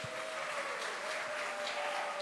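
An audience at a talk show event gives a short, steady round of applause for a guest, heard as a dense, even wash of clapping at moderate distance.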